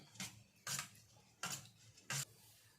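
Curd is stirred into pearl millet porridge (kambu koozh) with a utensil, giving four separate scraping strokes against the vessel, spaced roughly evenly. The sounds are close and fairly quiet, with no talking.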